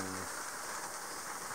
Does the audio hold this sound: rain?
yes